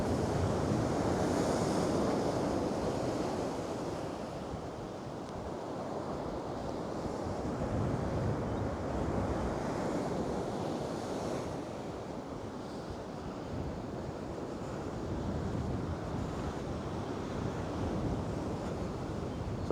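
Storm waves at high tide crash steadily onto the shore, a loud continuous roar of surf with gusts of wind buffeting the microphone throughout and no voices.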